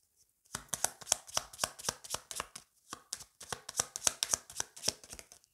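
Tarot cards shuffled and drawn by hand: a steady run of crisp, close riffling slaps and flicks in two bursts separated by a short pause, with no talk.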